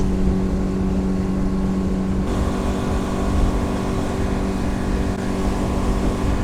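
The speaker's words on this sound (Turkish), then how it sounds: "Teknemizin büyük bir kısmı suyun üstünde kayıyor şu anda. Hatta tam yol verdim sizin için." A motorboat planing at full throttle, engine held steady around 5500 rpm, gives a loud, continuous roar with a droning hum and rushing water, unchanging throughout and with no voices.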